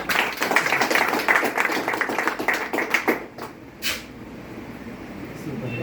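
Applause from a gathered audience at a networking business meeting, dense and steady for about three seconds before stopping abruptly, with a faint voice afterward.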